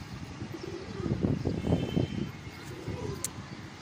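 A flock of about 40 racing pigeons in Hyderabad gives soft, low cooing calls in rolling clusters over a faint outdoor background hiss, with a brief high chirp near the end.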